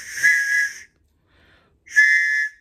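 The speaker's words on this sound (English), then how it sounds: "This is what? Oh, a whistle?" A whistle is blown twice: two shrill, bright blasts about half a second long, separated by a short silence, loud and close with no talking.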